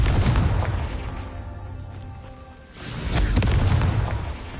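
Fiery spell explosion from the Confringo curse in Hogwarts Legacy: a loud, close booming blast that fades out, then a second heavy rumbling burst, with no voices.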